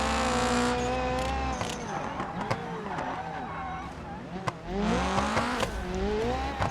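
Race cars in the BeamNG.drive driving game tearing along a mountain course, engines droning loud and steady with shifting pitch sweeps as one speeds past on a straight, with brief tire squeals and a voice talking over it.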